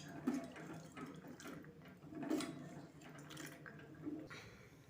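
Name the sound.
soaked peanuts with water poured into pot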